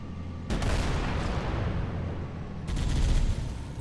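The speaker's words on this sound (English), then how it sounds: "Machine guns kind of suck on this thing." A Covenant tank's vehicle machine guns fire in Halo: Combat Evolved Anniversary, two loud sustained bursts of rapid automatic fire close up, separated by a brief lull.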